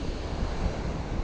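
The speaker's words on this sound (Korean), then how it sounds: "바람도 불고 파도도 치고 상쾌합니다." Sea waves and wind on a cloudy, overcast coast, a steady broad rushing roar of surf mixed with wind buffeting the microphone, loud and continuous with no speech.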